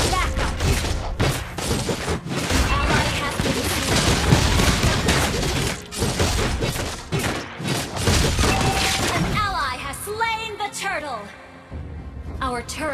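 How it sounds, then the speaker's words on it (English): Combat in Mobile Legends as a turret is destroyed: loud crashing, shattering impacts and bursts of effects over game voice lines, ending with a quieter electronic tail. "Our turret has been destroyed."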